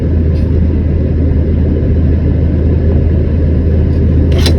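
An XCMG XCR55 crane's diesel engine running at steady revs, a loud, deep, continuous rumble close by with no talking.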